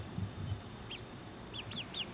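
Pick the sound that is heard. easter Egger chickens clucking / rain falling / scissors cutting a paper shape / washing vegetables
easter Egger chickens clucking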